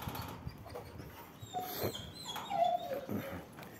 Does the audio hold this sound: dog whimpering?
yes